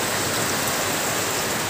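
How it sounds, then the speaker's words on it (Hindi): Sudden heavy rain pours down at Dhaligaon Market, a dense, steady hiss of drops on surfaces close by, loud and unbroken throughout with no voices. "अभी बारिश स्टार्ट हो गई है, इतनी बारिश हो रही है"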